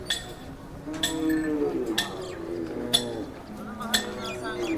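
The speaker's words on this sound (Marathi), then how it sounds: "बऱ्यापैकी मोठ्या मापाची बैल आहे" A large Khillar bull lows in low, drawn-out calls amid a busy cattle market in Sangola, with people talking nearby and occasional metallic clinks.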